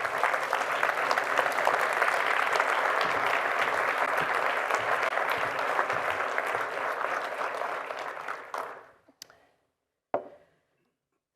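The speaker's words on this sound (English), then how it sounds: "I'd like to ask you to give yourselves, your colleagues, and our students a round of applause." A university audience applauds loudly and steadily at a state-of-the-university address, a dense continuous clapping that thins out and stops near the end, leaving a few isolated claps.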